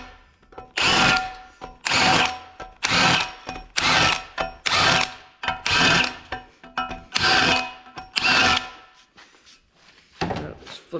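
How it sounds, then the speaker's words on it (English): A drill countersinking holes in a heavy steel plate for a dump truck hitch, about nine loud close bursts of grinding whir, each lasting under a second with short pauses between. "let's countersink these holes real quick"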